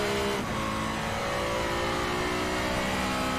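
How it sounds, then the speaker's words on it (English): Racing-game car engine from Shift 2 revving loudly and steadily, a sustained mechanical drone with shifting harmonics throughout, no voices. "The car sounds are good."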